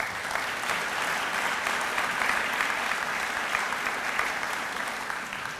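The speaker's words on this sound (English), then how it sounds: "Please give them another round of applause." Steady audience applause at a library literacy awards event, many hands clapping evenly for several seconds and tapering slightly at the end, with no speech over it.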